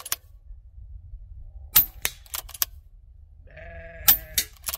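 A Daystate Huntsman Revere air rifle fires in a quiet setting, giving a few sharp, brief cracks spread across the moment, each followed by faint mechanical clicks and rattles.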